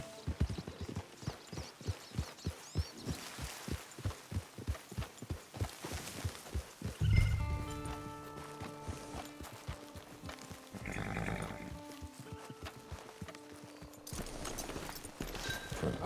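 Horse hooves clip-clop at a steady trot in the Red Dead Online video game, a fast even rhythm of hoof strikes that slows and fades about halfway through as a game music sting and ambient sounds take over.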